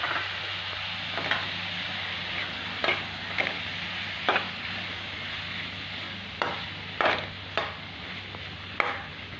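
Spices go into tomato besan sabji frying in a pan, with a steady sizzle under a string of irregular scraping and stirring knocks from a spoon against the pan, heard close with no talking.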